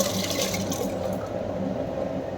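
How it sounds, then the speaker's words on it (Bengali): Rice being tipped into a pot of hot water on the stove, heard as a steady, close, watery rush that runs unbroken for a couple of seconds. "দেখো জল গরম হয়ে গেছে, চাল দিয়ে দিচ্ছি।"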